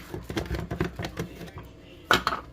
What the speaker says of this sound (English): I'm just going to chop up bread